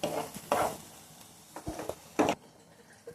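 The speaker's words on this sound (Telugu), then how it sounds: "ఇలా మనం ఒక ప్యాన్ మీద ఇలా వెజ్జీస్ ఫ్రై చేసుకుంటూ ఉంటాం" Vegetables frying in a pan beside a pot of boiling pasta for white sauce pasta, with a few bursts of sizzle and scraping strokes of stirring at close range, separated by quieter gaps.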